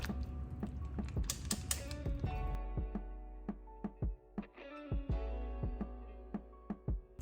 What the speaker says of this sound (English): let me get this whisk. And just kind of whisk this through.